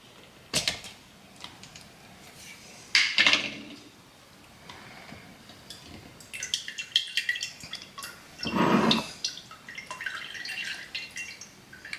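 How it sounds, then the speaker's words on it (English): A cold brew coffee filter lifted out of a cup, with scattered drips and small plastic creaks at close range, several louder rustling bursts and clatters, no talking. "let's go ahead and take the filter out"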